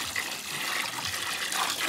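Continuous splashing water runs steadily throughout, a bright rushing flow like liquid being poured or running from a tap.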